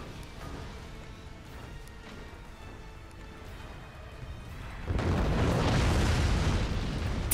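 Cannon fire and explosions in the strategy game Forts: low rumbling thuds under busy battle noise, then a sudden loud burst that turns into sustained explosive roar.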